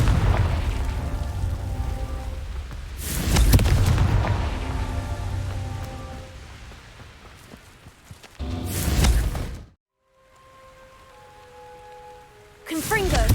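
Confringo blasting spells in Hogwarts Legacy: three loud, broad bursts go off one after another, each with a roaring, crackling tail, over a rainy ambient background with a short drop to near silence.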